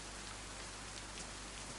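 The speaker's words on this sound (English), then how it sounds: "The rain confuses them." Rainfall in the survival game DayZ, a soft, even hiss of drops hitting surfaces that continues without change, faint and with no one talking.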